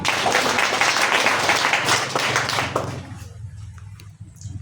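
Church congregation applauding, a dense burst of many hands clapping loudly that fades out after about three seconds, leaving quieter room sound with a few stray taps.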